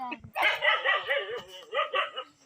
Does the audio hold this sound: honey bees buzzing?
no